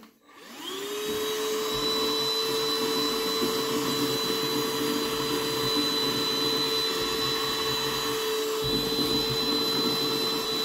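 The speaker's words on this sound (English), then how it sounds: "time to test it to see how much suction power it can give us" A Parkside PMSSA 8 A1 cordless handheld vacuum cleaner whirs steadily at close range after a brief start-up, its high motor whine holding constant for the whole stretch.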